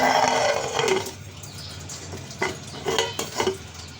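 Aloo gobhi of potato and cauliflower being stirred in a pot, with a soft sizzle throughout and scattered scraping, clattering spoon strokes that recur in short bursts, close and moderately loud, no talking.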